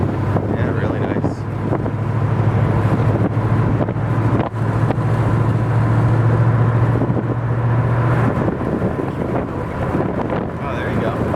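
A 1940 Ford Deluxe convertible with a 351 Cleveland V8 cruises with the top down, a low steady engine hum buried under loud wind buffeting across the microphone.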